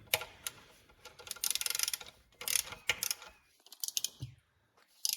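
Ratchet clicks in short bursts while torquing bolts on a Nissan 350z engine during a turbocharger kit install, close and sharp, separated by brief pauses and small metallic taps.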